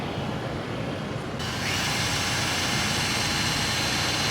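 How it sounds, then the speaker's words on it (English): A drill bores into a 2015 BMW S1000RR motorcycle part, whining up to a steady, high, loud pitch after a brief softer start and holding it to the end. "So when I drill this, I want it to be drilling straight with the angle"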